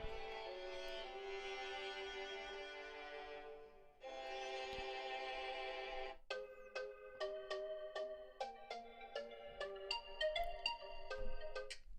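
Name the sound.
phone speaker playing music loudly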